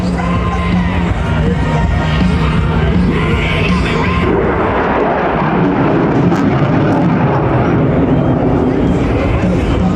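A display aircraft at an air show in Ayr pulls into a loop, its engine roaring loudly and continuously with the rush swelling partway through, while crowd noise and a voice sound faintly beneath it.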